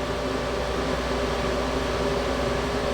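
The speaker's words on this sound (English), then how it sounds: "remember that this noise is going from the power supply" Steady, loud, unbroken whirring hum from the power supply of a liquid-cooled GPU server packed with TITAN RTX and 2080 Ti cards, constant with no variation.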